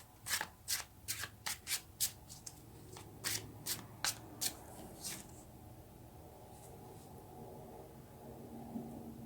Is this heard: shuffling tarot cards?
yes